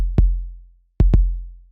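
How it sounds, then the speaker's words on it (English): Isolated kick drum stem with a drum fattener effect: three deep, booming hits, one alone followed by a quick pair, each punchy and loud with a long low decay. "Here's the kick by itself."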